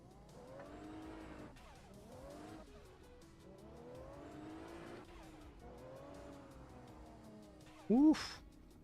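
Video game car drifting: engine revving in long rising and falling sweeps with sustained tire squeal, ending in a sharp, louder screech near the end.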